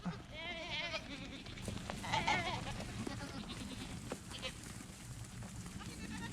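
Goats bleat repeatedly while being loaded into a truck on the way to a livestock auction, wavering cries rising over outdoor noise as a person calls and urges them on.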